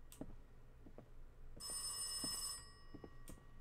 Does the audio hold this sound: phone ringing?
yes